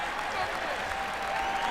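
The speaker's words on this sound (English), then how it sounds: "That's the loudest cheer I've heard so far in this match." A crowd at a jiu-jitsu match cheers and applauds in a steady, dense roar throughout, sounding moderately distant with no break.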